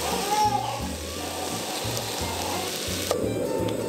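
Pork belly slices frying in a pan on medium-high heat, giving a steady close sizzle and spatter that runs throughout at a fairly even level.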